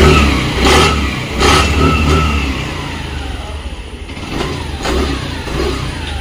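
A car engine revs in repeated loud surges over a steady idle, close by, with no talking over it.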